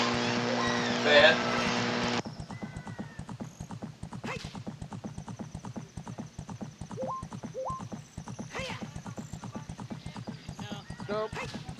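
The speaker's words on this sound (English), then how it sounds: "Riding a horse." A horse in The Legend of Zelda: Ocarina of Time gallops with a steady, rapid clip-clop of hooves, brief neighs breaking in over game sounds and background music.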